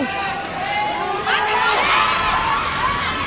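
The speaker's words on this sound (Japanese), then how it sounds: "さあ場内完全にこの2人に注目が集まっていますおおおという歓声が沸き起こっている" A crowd at a women's wrestling match in Nippon Budokan, Tokyo, swells with cheers and shouting, rising in intensity partway through, while an excited commentator's voice runs over it.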